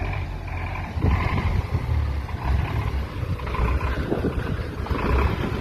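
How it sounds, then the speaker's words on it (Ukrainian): An MTZ-80 tractor with a small cab drives along a field, its diesel engine a loud, steady, rumbling drone that swells a little at times. "по полям синій трактор їде до нас"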